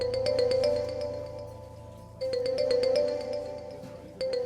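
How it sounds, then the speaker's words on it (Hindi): A phone ringtone repeats in electronic bursts of chiming tones, pausing briefly between cycles over a low steady hum. "फोन बाद में सुन लेना प्लीज शाहनवाज,"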